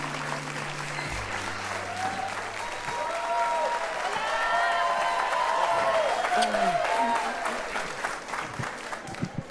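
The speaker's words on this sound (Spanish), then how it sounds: "vamos a recibir con un fuerte aplauso a los actores Dominica Paleta y Roberto Palazuelos." A studio audience applauds loudly and steadily, a dense wash of clapping with some cheering, while a voice speaks briefly over it near the start.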